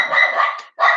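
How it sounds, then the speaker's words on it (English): A dog barks indoors, heard fairly close and loud as two rapid bark bursts with a short gap between them, and no talk over it. "that's my dog barking like that, Suki."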